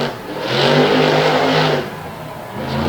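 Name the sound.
monster truck Stinger Unleashed engine revving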